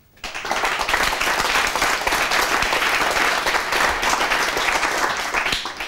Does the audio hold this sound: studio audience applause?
yes